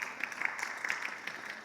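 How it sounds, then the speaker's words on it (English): A youth conference audience claps for a group after its presentation, a brief, fairly faint patter of many hands with no talking over it. "Let's give them a round of applause, people."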